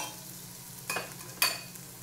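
Ginger sautés in a hot pan for chicken bopis, a faint steady sizzle over a low hum, broken by two short bursts of stirring scrape.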